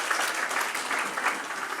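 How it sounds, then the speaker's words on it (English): A steady round of audience clapping at a charity breakfast for brain cancer, dense and moderately loud throughout, with no talking on top. "Can we give a round of applause for Paige?"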